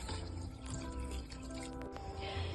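Water pours from a large glass into a pot of daal tadka during cooking, a steady close splashing and filling sound with no talking.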